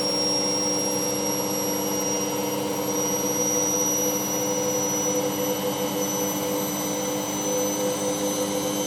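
An Ariston Margherita A1635 washing machine spins at 1000 RPM on a 60ºC fast coloureds programme, a loud steady whine with a constant roar and high tonal whistles, no voices.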